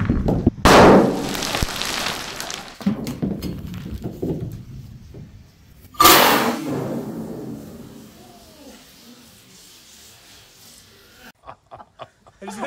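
A TAGInn training hand grenade goes off outdoors in two loud bursts a few seconds apart, each a sharp blast followed by hissing and crackling that fades away, with voices and laughter in between.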